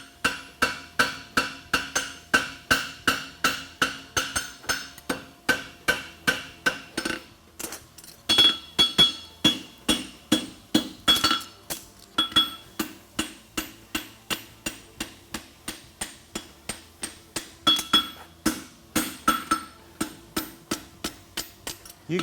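Steady hammer blows ring on a French hind horseshoe being forged at a world championship blacksmith contest in Madison, Wisconsin, a long run of sharp, rhythmic metallic strikes with a brief pause partway, loud and close, with no talk.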